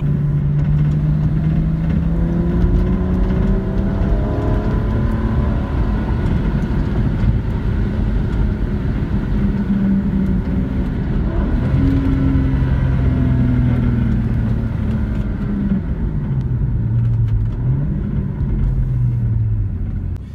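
A BMW 135i engine with an aFe cold air intake hums steadily and smoothly, its pitch gently rising and falling as it revs, a continuous low rumble with no voices.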